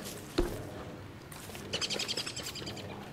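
Chirping bird in the survival video game Don't Starve, a short run of bright, quick tweets after a single soft thud, fairly close over a quiet background.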